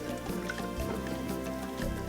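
Water poured over elderberries and hawthorns in a pot, a continuous close liquid pouring and splashing with a steady trickle running throughout and a low background hum.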